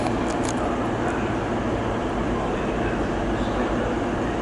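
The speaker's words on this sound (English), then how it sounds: "arriving in the distance. It's going to be a Class 152." A British Rail Class 152 train approaches a platform at Bristol Temple Meads, a steady broad rumble and roar with constant low drone, moderately loud, while station noise carries in the background.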